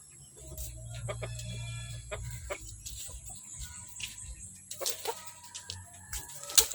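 Young four-month-old Black Boa gamefowl chickens in a backyard give repeated short clucks and calls, with scattered bird sounds and a low rumbling background throughout.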